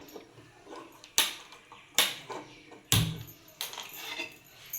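A kadhai pan is set down on a lit gas stove in a home kitchen, giving several sharp metallic clanks and knocks at close range, spaced about a second apart, with no talking.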